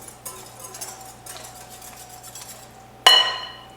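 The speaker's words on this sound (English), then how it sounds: "And then I'm gonna just whisk that till it incorporates." Vegan fig bar ingredients whisked in a bowl: soft, quick scraping clinks repeat close by, then one sharp, louder clink of utensil on bowl near the end.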